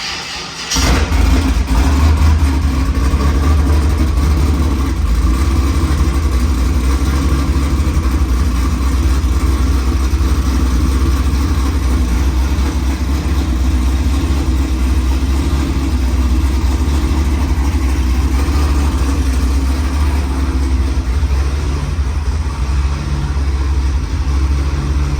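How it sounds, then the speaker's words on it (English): A loud cammed Pontiac G8 engine idles steadily at a high, lumpy rumble, the uneven lope continuing without a break for the whole stretch. "It's going to come down a little bit because it's idling kind of high right now."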